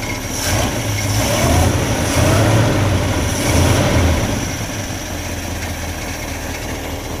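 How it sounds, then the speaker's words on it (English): A 1953 Chrysler Windsor Newport engine runs steadily at idle, its low rumble overlaid by a raspy, ticking puff of exhaust escaping from a leak at the exhaust manifold, with slight surges in loudness. "Sounds like it has a little bit of an exhaust pipe leak at the manifold on this side."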